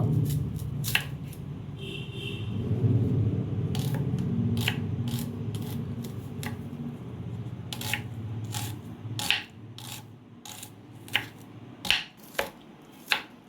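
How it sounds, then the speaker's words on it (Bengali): A medium onion is finely chopped with a knife: a low, muffled rumble of steady cutting gives way to distinct, sharp board taps that come spaced and increasingly loud near the end. "একটা মিডিয়াম সাইজের পেঁয়াজ নিয়েছি, এটাকে খুব ভালো করে কুচিয়ে নেব।"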